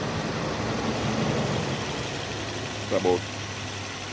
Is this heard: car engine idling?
yes